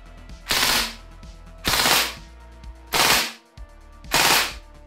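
A VFC airsoft M249 fires four sustained full-auto bursts, each about half a second of rapid, loud, close rattling clatter separated by short pauses.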